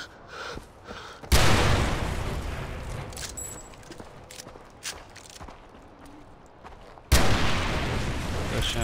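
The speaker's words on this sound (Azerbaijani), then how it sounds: "Qəşəng partlayışlar baş verir." Explosions in Far Cry: two sudden loud booms, each followed by a long rumbling roar, with scattered softer thuds and crackles between them.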